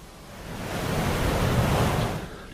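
Waves breaking on a sandy river shore, a steady broadband wash of surf that swells gently toward the middle and eases off again, heard alone without voices.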